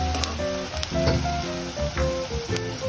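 Pav bhaji ingredients fry in oil, giving a steady close sizzle with intermittent crackles and occasional scraping stirs, and no talk over it.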